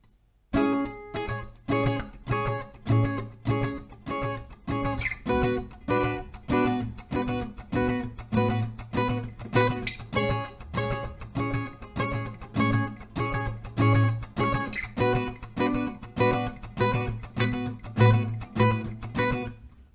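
Acoustic guitar strummed in a steady, even down-up rhythm, chords ringing out clearly with no talking over it.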